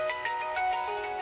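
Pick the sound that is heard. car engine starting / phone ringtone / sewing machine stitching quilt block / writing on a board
phone ringtone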